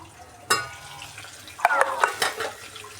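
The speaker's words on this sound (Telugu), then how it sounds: "ఇప్పుడు ఒకసారి కలుపుకుందామండి, ఫ్రై చేసుకుందాము." Cumin seeds, coriander seeds and tomato stirred and fried in a pan for a tomato green chili chutney, with a sudden scrape followed by soft sizzling and a few sharp spoon clinks against the pan.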